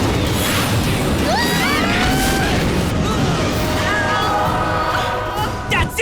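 Loud, dense burst of cartoon attack impacts from a Kairu Barrage in a Redakai battle, a sustained crashing rumble with sweeping whooshes and shimmering tones for several seconds.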